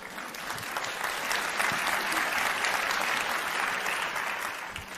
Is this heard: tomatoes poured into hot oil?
no